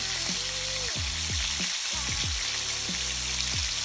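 Meat frying in bacon grease, seasoned with salt and pepper, gives a steady close sizzle that runs unbroken for the whole stretch, with some low tonal sounds mixed underneath.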